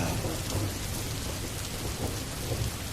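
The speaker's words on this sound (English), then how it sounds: "Listen to the peaceful sound of the rain." Steady, heavy rain hisses continuously, with a low rumble of thunder underneath throughout.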